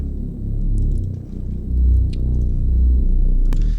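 A synth patch built from a Spire preset and processed with a bit crusher plays alone as a loud, deep, rumbling sustained tone that swells and pulses in low register, with faint high crackles near the end.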